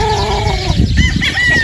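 A sweater gamefowl rooster clucks close by in a game farm pen, with short harmonic calls and throaty clucks over steady rustling background noise.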